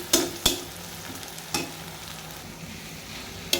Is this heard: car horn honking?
no